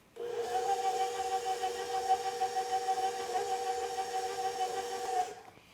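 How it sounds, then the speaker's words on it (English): A stand mixer whirs steadily while beating flour into cookie dough, a continuous tonal motor drone with a high whine that runs for about five seconds before cutting off. "let's mix it up again for about a minute"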